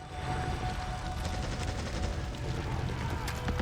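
Sniper rifle fire in the video game Days Gone, heard as a dense run of sharp cracks and mechanical clatter over a constant hiss, fairly faint and without clear speech.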